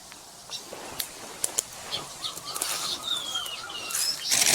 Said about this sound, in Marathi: आणि पक्ष्यांचा वर चिवचिवाट मध्ये जोरात चालू आहे.